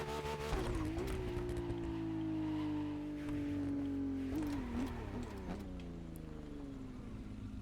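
A Ferrari F80 engine in The Crew Motorfest holds a steady, smooth drone at cruising speed, then its pitch dips and climbs again as the car shifts and pulls harder, loud and continuous.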